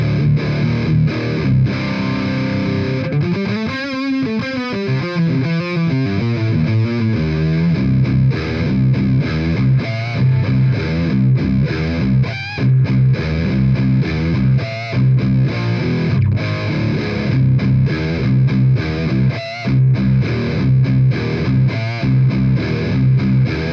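A heavily distorted electric guitar in drop C tuning through a Soldano SLO-100 amp model plays low, chugging riffs with a thick, saturated tone, loud and continuous.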